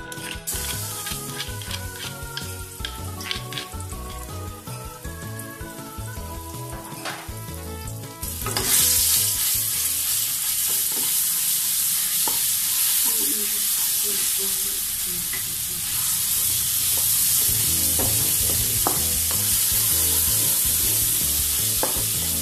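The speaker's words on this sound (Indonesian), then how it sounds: "goreng sampai harum tapi jangan sampai gosong" Ground spice paste for nasi goreng kluwak fries with a loud, continuous sizzle that surges partway through, with scraping and clinking as it is stirred in a pan nearby.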